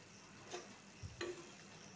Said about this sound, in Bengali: আমি আবার ভালো করে মিশিয়ে দিচ্ছি একটু